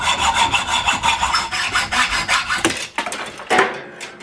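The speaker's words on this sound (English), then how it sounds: "so I'm going to have to get out the handsaw" A handsaw cutting through a metal bolt held in a vise, rhythmic back-and-forth rasping strokes, close and loud, slowing into a few final strokes.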